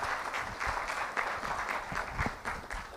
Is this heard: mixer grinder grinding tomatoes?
no